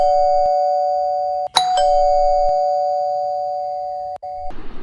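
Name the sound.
doorbell ringing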